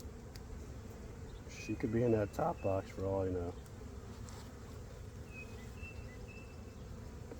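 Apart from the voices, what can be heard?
honey bees buzzing around hive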